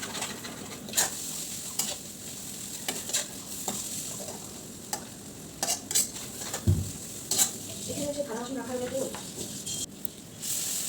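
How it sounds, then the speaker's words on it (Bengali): Spice paste with salt, turmeric and chili powder fries in a pan, a steady sizzle under repeated scraping strokes of the spoon, while a voice speaks briefly in the middle. "মশলা ভাজা প্রায় হচ্ছে"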